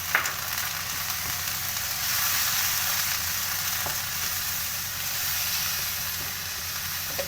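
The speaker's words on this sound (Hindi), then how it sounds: "तकरीबन 1 से 2 मिनट तक इसको भूनें इसी मसाले में, ताकि सारी कलेजी जो है मसाला जज़ब कर ले।" Chicken liver frying in spice masala for kaleji karahi makes a continuous hissing sizzle in the pan, with occasional scrapes and taps of stirring, loud and close.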